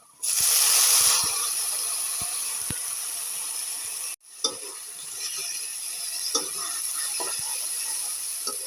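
Figs dropped into hot oil in a kitchen pan give a sudden loud hiss that settles into a steady sizzle, briefly cut off, then resuming with scattered crackles and pops.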